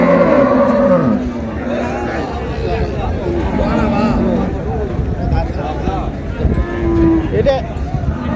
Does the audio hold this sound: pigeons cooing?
no